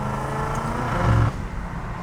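A BMW M5 with aftermarket intakes runs with a steady low engine drone and intake air rush, swelling briefly as it revs, heard from inside the car.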